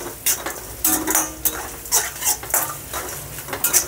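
Onions and dried red chillies frying in a pan for coconut rice, with a steady soft sizzle under repeated scraping and clinking of a spoon stirring against the metal.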